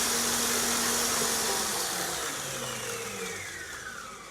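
An electric whisk whirs steadily through mascarpone and cream for tiramisu, a loud close motor drone that lowers in pitch and fades a little toward the end, with no talking.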